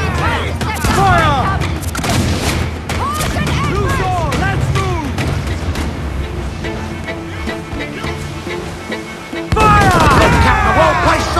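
Cannon broadsides in an Assassin's Creed IV Black Flag naval battle at sea, with repeated booming blasts over crashing waves and ship noise, mixed with game music and shouted crew dialogue.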